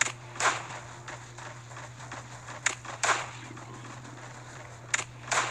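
Improvised weapon firing in Last Day on Earth: Survival, a handful of sharp, separate shots spread irregularly over a steady low hum, fairly quiet and with no talk.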